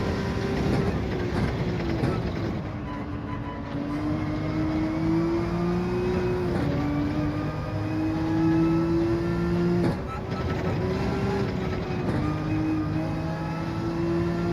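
A Ferrari Gr.3 race car engine in Gran Turismo 7 drones steadily with rising and falling harmonic pitch as gears shift, loud and continuous throughout with other racing cars nearby.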